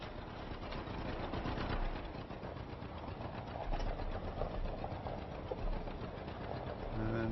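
A John Deere tractor engine in Farming Simulator 25 drones steadily with a rattling, mechanical chug throughout, loud and continuous, with no talk over it.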